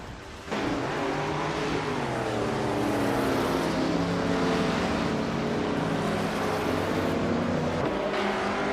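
Race cars in a racing video game, including a 1968 Ford P68 prototype, blast in with a sudden engine roar and hold a loud, continuous howl with shifting pitch as they run nose to tail for the lead.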